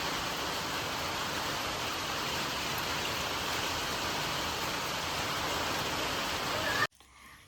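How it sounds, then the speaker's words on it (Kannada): Heavy rain pours steadily in a broad, loud wash that fills the scene for about seven seconds, then cuts off abruptly near the end. "ಮಳೆ ಜೋರು ಬರ್ತಾ ಇದೆ."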